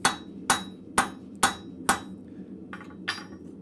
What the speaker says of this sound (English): So I'm just starting the rivet off the side where the shelf is.